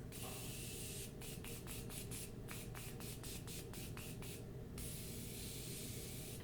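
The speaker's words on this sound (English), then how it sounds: "take my Morphe Continuous Setting Spray and then just set my face" A rapid series of short, sharp spray bursts from a Morphe Continuous Setting Spray bottle onto a face, about a dozen quick pumps followed by one longer hiss, close up over steady background noise.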